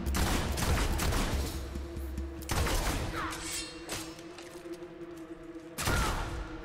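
Gunfire in the video game Fable II, with bursts of loud shots and heavy thuds over busy game noise, one burst near the start and another near the end.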